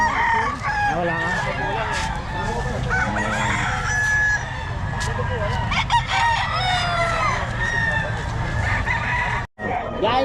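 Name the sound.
chickens and roosters crowing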